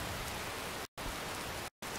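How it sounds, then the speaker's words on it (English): Steady rain from the Skyrim Nimbus weather mod, a loud, even hiss of falling drops that cuts out abruptly twice, with no voices over it. "We've got some rain."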